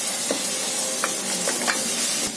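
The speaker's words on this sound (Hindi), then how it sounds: "अब डालेंगे इसमें अदरक और लहसुन का पेस्ट। थोड़ा सा हम इसे भून लेते हैं।" Steady frying sizzle of ginger-garlic paste in a pan with a few brief scraping stirs, no talking.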